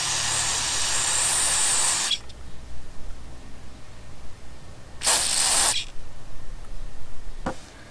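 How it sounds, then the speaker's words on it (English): Bursts of high-pressure spraying hiss loudly into a pressure washer's carburetor holes: a long blast, then a pause with clattering, another burst, and a brief final squirt. "So what we're going to do is we're going to spray out all the holes."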